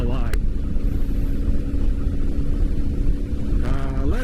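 A 1984 Honda Magna VF700C motorcycle engine revs, first climbing sharply, then holding a steady loud rumbling drone close by, and rising again near the end.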